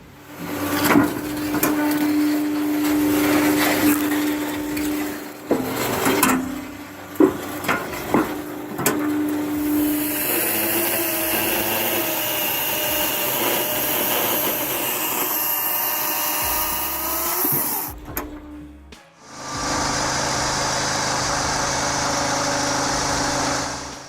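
A homemade bandsaw mill driven by a Maxim Vis 6.5 horsepower engine runs loud and steady, its engine drone and blade whine continuing throughout with sharp knocks early on and a brief drop near the end.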